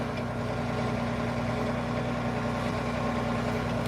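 A tractor engine idles steadily during subsoiling work on a farm, a constant close, low rumble with an even hum and no voices.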